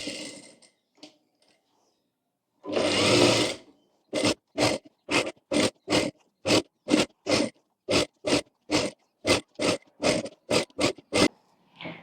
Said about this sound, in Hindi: यहाँ से तीसरी सिलाई लगानी है।